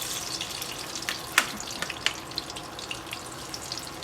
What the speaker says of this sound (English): So pretty much we're trying to fry the Duff, like let it get a little crispy outside